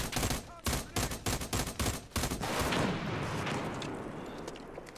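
Video game shooter gunfire: a quick string of loud, sharp shots in an uneven rhythm, followed by a sustained roar of heavier fire and rumbling that slowly fades.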